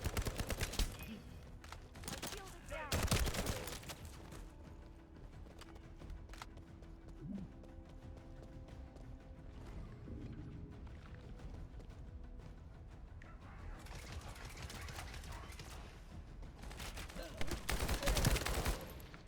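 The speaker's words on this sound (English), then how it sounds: "So shoot enemies, reload, shoot enemies, and they explode." Gunfire in The First Descendant, with heavy bursts of shooting at the start and end and quieter scattered shots and clatter between, played at low overall volume.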